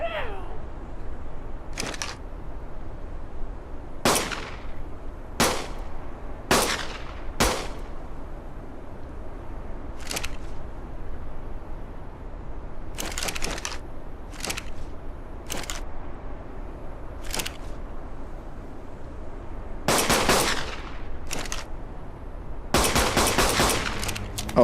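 Rapid bursts of gunfire in a video game, fired by holding down the mouse button; sharp broadband shots come singly and in quick clusters, loud against a low hum, with a dense rattling volley near the end.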